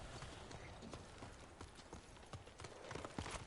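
A thin brown horse's hooves clip-clop steadily in the feudal Japanese open world of the video game Ghost of Tsushima, a close, even trotting rhythm over soft ambient game sound.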